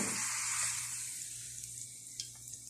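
Salsa for ground beef tacos hits hot cooking oil with a loud hissing burst up close, then settles into a fading, steady sizzle with a few small pops, and no voices.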